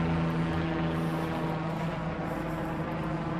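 A helicopter drones steadily overhead during an airlift, a constant low rotor and engine rumble with no talk.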